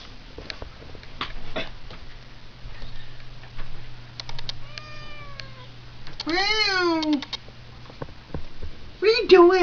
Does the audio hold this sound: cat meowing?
yes